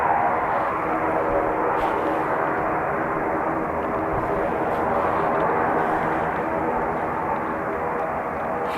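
American Airlines Boeing 787 Dreamliner jet on its Paris to Dallas-Fort Worth run at Dublin Airport, a loud, steady engine roar holding constant throughout with no breaks and no voices.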